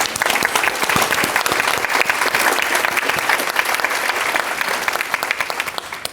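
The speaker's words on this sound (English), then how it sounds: "I do want to take an opportunity to have another round of applause for every peer in the room." Conference audience giving a sustained round of applause for peers in the room, dense, loud clapping with crisp individual claps, tapering slightly at the end.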